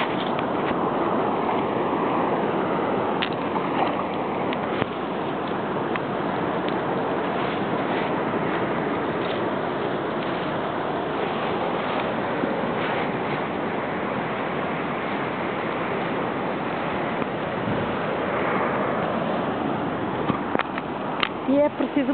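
Sea waves breaking on the sand at Praia do Cabo do Mundo, a continuous broad wash of surf with wind noise throughout, loud and steady, with a voice speaking over it.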